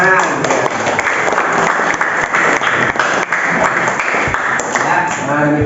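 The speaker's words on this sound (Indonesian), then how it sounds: "Tepuk tangan." Hands clapping in applause at a school session, a busy, fairly close patter of claps that stays loud and continuous throughout, with a voice faintly under it near the end.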